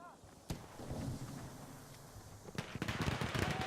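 Grenades burst in the Frontline video game with a sharp early blast, then a cluster of crackling detonations near the end over a steady low rumble, while commentators talk faintly underneath.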